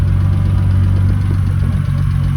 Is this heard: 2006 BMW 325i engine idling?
yes